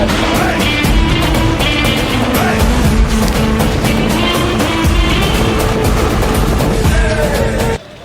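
A vehicle pulls up to collect a group of people, its engine a loud, steady roar mixed with rattling and road noise that runs continuously and cuts off abruptly at the very end.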